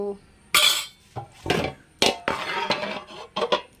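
A metal lid clatters onto a pot of Kottayam-style fish curry, several sharp clinks and knocks in a close, uneven sequence with brief quiet gaps between them.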